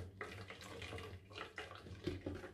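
Juice being strained through a kitchen sieve, a faint, uneven trickle and splatter of liquid with a few soft knocks, quiet and close.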